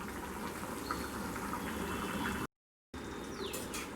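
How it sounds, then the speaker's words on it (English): Fish head gravy simmering in a pan over a low to medium flame, a soft continuous bubbling and fizzing, quiet and close, briefly cut off by a short gap of silence. "let it simmer for around 5 minutes on low to medium flame"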